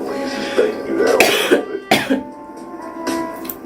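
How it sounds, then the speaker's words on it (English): A cat character in Cat Detective Albert Wilde coughs harshly in a few rough bursts and clears its throat, loud and close. "I recovered from a sickness and I still am left with this awful cough."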